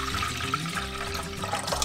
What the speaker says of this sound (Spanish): en otra cacerola agregamos el agua